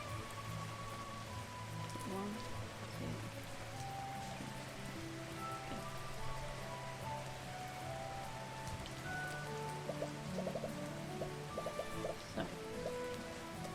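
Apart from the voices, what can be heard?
rain falling in the video game Kitaria Fables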